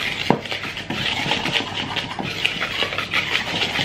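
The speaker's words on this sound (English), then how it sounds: "So I'm going to just whisk that all together." A whisk scrapes and ticks steadily against a bowl while mixing dry pancake ingredients of self-raising flour and baking powder, a close, continuous rhythmic stirring with no talking.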